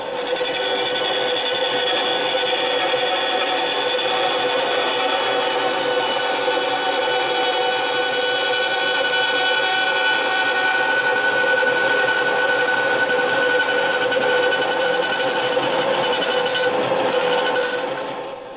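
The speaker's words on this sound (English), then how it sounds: "Is your bandsaw ready? Great, then let's go." A bandsaw cuts into the edge of a wooden propeller, giving a loud, steady, close whine and rasp that holds without a break for the whole stretch, with no talking.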